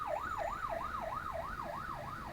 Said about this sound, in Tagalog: may kasalubong na ambulance.